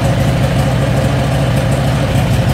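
A Predator 670cc V-twin engine idles steadily on both cylinders, with a loud, even, low rumbling drone and no pulsing or misfire.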